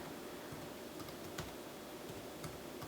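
Steady typing on a computer keyboard while entering a search term into a school research database: soft, fast keystroke clicks with a few sharper taps, close and continuous under a faint background hiss.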